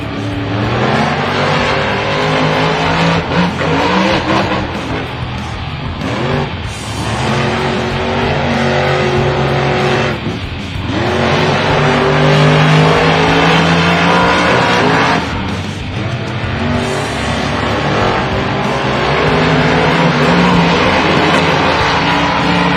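Monster trucks, including Gravedigger, running qualifying at the Monster Jam World Finals, big engines roaring and revving loudly in repeated surges with short drops between bursts across a long stretch, with no talking.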